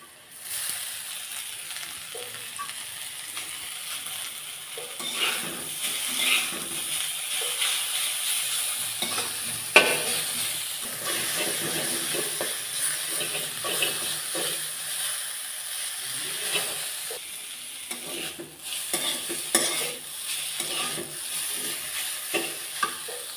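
Leafy greens sizzling in hot oil with browned onion and garlic, stirred with a utensil that scrapes and taps the pan now and then; a steady close hiss with irregular clatter throughout, no voices.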